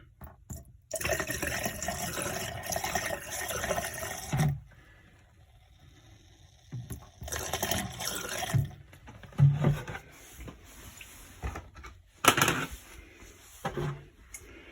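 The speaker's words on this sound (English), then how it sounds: "And I'll pour some down into the sink." Liquid is poured down an RV sink drain during winterizing, heard as several bursts of splashing and gurgling separated by quiet gaps, with a few knocks and clunks between them.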